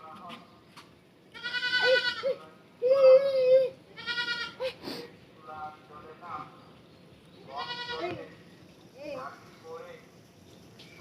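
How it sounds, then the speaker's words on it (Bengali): Goats bleating outdoors, several loud wavering bleats in short bursts spread across the span, with people talking in between. "ওই যে আরেকটা বড় ছাগল।"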